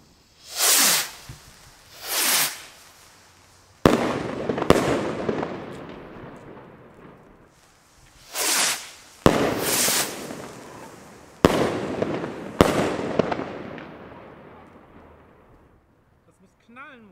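Salute firework rockets with silver tails whoosh upward with rising whistles, and loud sharp bangs go off in a series, close by and echoing.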